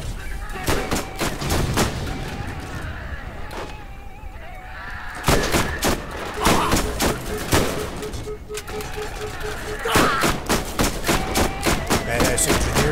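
Video game Borderlands combat: repeated sharp gunshots and thumping blasts, including a grenade explosion, loud and close amid ongoing battle noise, with a player's voice speaking at times.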